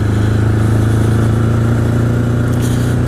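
A 1981 Honda CB750 Custom motorcycle engine drones loud and close while being ridden to work, a steady throbbing hum at even revs with wind noise, and no speech.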